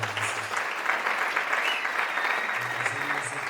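A church congregation applauds steadily, a dense, even wash of clapping from many hands that fills the space without a break.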